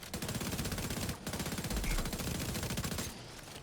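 Rapid automatic gunfire in a video game, aimed at an enemy turret, rattles on almost continuously for about three seconds with a short break near one second, loud and close, then cuts off.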